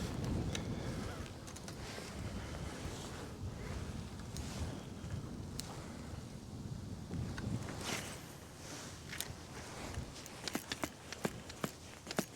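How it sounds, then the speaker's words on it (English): Wind gusts outdoors on a cold January day, roaring and buffeting the microphone as a broad, rumbling rush. The wind eases toward the end, where a few sharp ticks and rustles break through. "that wind is super nice"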